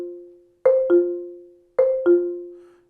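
Marimba notes struck in two quick pairs of four-mallet double lateral strokes, each pair ringing out and decaying before the next, clear and alone.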